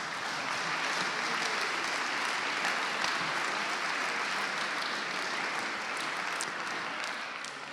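Steady audience applause at a digital-culture awards ceremony, continuous and fairly distant throughout, with no voices over it.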